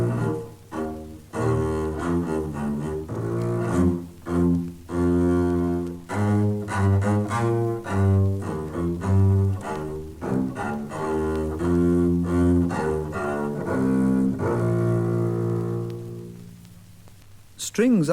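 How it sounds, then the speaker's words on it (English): Double bass from an orchestral instrument introduction plays a sequence of deep, sustained bowed notes with rich low harmonics, the phrase ending in a fading tail. "as these instruments get bigger, they make deeper and deeper noises until the double bass sounds like this."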